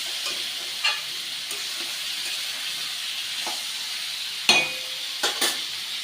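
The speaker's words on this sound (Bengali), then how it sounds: "হলুদ লবণ দিয়ে একটু ভাজা ভাজা করে নিয়েছি" Green tomatoes fry with turmeric and salt, making a steady soft hiss and sizzle in the pan. A few sharper knocks and scrapes of a stirring spoon break through, with no talk.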